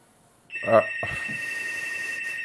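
A landline telephone starts ringing with a steady electronic tone that holds to the end, preceded by a short voice and a knock, fairly close.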